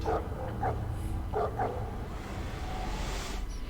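Hounds bark repeatedly in The Suffering: Ties That Bind on PS2, several sharp yelps in uneven bursts over a steady low rumble of game ambience.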